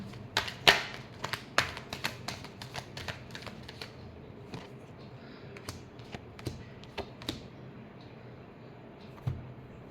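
A deck of tarot cards being shuffled by hand, heard as a series of crisp, irregular snaps and taps, louder at first and then sparser, close up in a quiet room.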